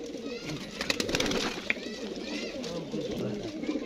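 A Sava Mogla fighting pigeon for sale coos in soft, close bursts, with brief flutters and faint background voice sounds around it.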